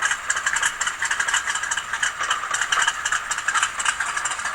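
The cold engine of a classic Chevy car with a flex fan and side exhaust runs steadily at idle with a rattling, uneven chug, loud and close, with no voices.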